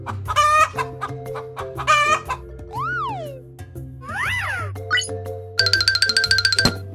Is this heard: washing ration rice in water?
no